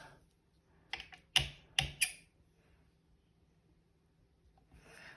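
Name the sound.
rubber stamp stamping flowers across an envelope flap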